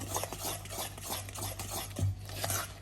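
Jamaican-style banana bread batter being mixed in a bowl, a steady run of soft rasping, scraping strokes over a constant low hum, with no talking.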